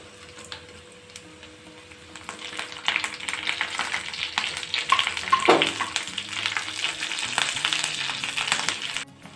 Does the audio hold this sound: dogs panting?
no